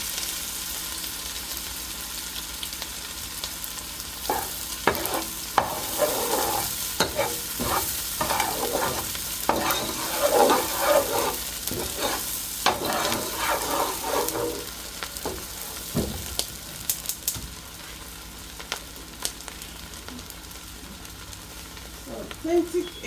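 Onions and crayfish frying in a pot for Nigerian egusi soup, a steady sizzle with a spoon stirring and scraping throughout, close and fairly loud, with brief bits of speech now and then.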